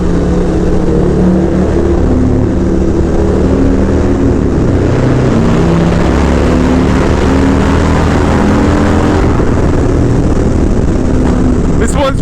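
A Harley FXR motorcycle ridden at high speed, its engine droning loud and close with steady wind rush and a slight shift in pitch midway.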